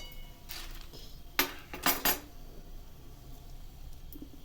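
Roasted adadiya pak mixture is moved from the pan onto a plate with a few quiet metallic clinks and clatters, spaced irregularly and heard up close against a low background with no talking.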